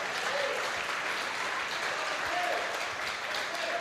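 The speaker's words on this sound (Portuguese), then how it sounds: "Aplaude ao Senhor." Congregation applauding at an evangelical church service in Brazil, a steady, dense wash of clapping that holds evenly throughout with no voices breaking through.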